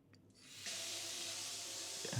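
A hotel bathroom sink faucet with a decorative handle runs at strong pressure in Hong Kong, a steady loud hiss of gushing water rising after a soft start and continuing evenly, with a brief knock near the end.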